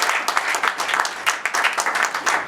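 A church congregation bursts into loud, sustained applause, dense overlapping clapping that fills the room, with a few voices faintly mixed in.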